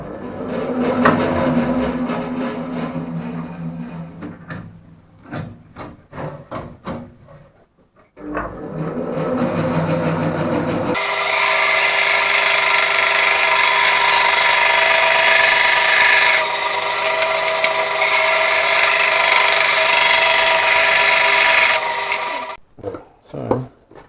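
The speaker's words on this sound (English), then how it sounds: "So I go over the bandsaw, I'll cut these out." A bandsaw cuts out wooden coasters, a loud steady whining cut that runs for about ten seconds after bursts of shop handling noise and knocks, ending with brief clatter.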